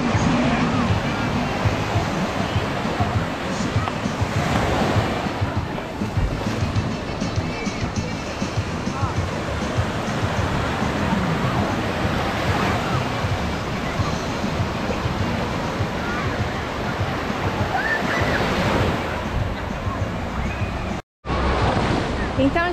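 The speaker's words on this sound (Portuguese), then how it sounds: "então o mar, ele tá um pouco mais calmo" Calm sea waves wash steadily onto Praia da Caçandoca beach, a continuous soft surf rush mixed with wind buffeting the microphone, lasting the whole stretch without pause.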